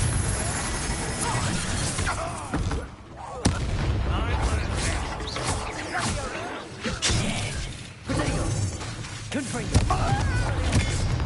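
In the Hogwarts Legacy game, Confringo blasting spells explode amid a combat clash, with loud booming blasts and crashing bursts recurring over dense, chaotic battle noise, and voices shouting in between.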